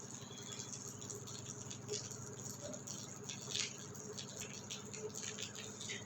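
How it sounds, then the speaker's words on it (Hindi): Light rain falling in a hilly area, a soft continuous patter of scattered drops with occasional slightly louder taps close by, steady throughout with no talking. "और अभी भी हल्की हल्की बारिश हो रही है।"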